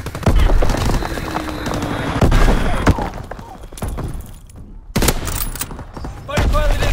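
Bursts of gunfire from Call of Duty: WWII crackle in loud, dense volleys, dropping briefly before resuming, with in-game voices calling out over the shooting.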